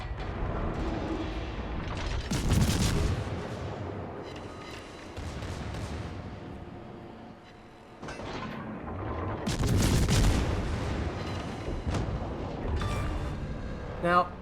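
Heavy warship guns firing in a naval battle game, as a tier 6 stock Dallas cruiser, with deep booming salvos and rumbling blasts recurring across the stretch while someone talks over the action.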